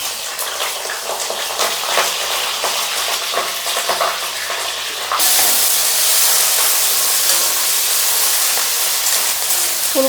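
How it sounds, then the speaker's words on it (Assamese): Cauliflower dropping into hot oil in a kadai with bay leaf and dry red chilli, a steady close hiss that jumps abruptly louder halfway through and then holds as a loud, even sizzle. "ফুলকবিটো দি দিম।"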